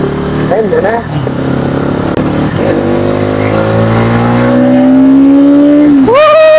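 A new-model Bajaj NS200 motorcycle being ridden, its engine note climbing steadily through the gears, then dropping and revving up sharply again, loud and close with someone talking over it.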